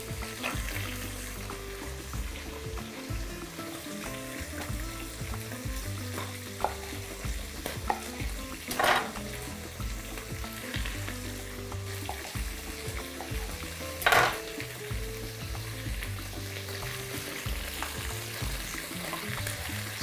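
Green beans and other vegetables fry with beef in a pan, a continuous sizzle with stirring scrapes and a couple of louder spits, close and steady with no talk.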